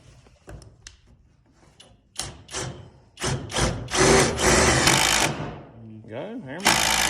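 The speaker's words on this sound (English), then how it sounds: "We're gonna try with the impact." An impact driver with a Spyder stinger tip bit works into a surface in short bursts, then a longer loud rattling run, with voices talking between bursts.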